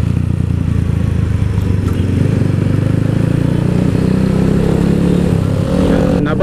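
Keeway CR152 motorcycle engine droning steadily while being ridden, a close, continuous low hum at constant loudness, with a brief clatter near the end.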